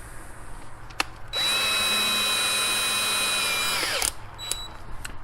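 An electric drill with a small 5/64 bit whines steadily for about three seconds, close and loud, spinning up and then winding down, with a few clicks before and after.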